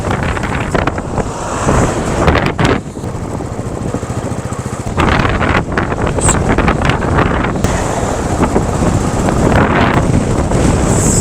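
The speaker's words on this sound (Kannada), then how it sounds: "ಈ ಚಳಿ ಗಾಳಿ ಹೊಡಿತದೆ" Cold wind blasting across a high mountain road on the way to Pangong in Ladakh, loud gusty rumble buffeting the microphone throughout, with brief lulls and no voices.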